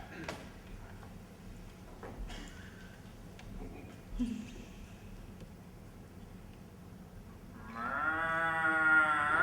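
A man on a comedy stage imitates a cow with a long, wavering moo near the end, after several seconds of quiet room noise and scattered small sounds.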